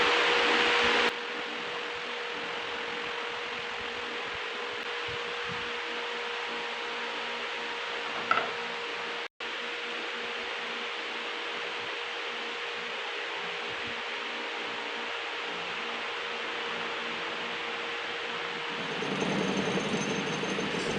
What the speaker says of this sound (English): That noise is just the lathe vibrating against the bench.